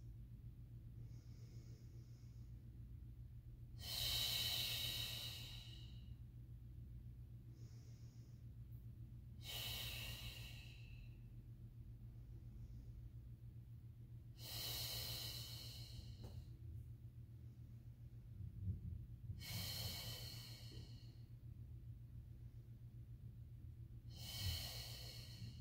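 Audible breaths during a Pilates mat class, with four or five long, airy inhales and exhales spaced every few seconds, each rising out of a steady low background hum.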